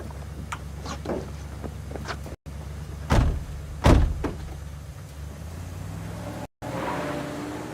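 Car doors slam shut in quick succession as people climb back into a vehicle, with two loud thuds standing out over a low engine idle and some shuffling, no voices.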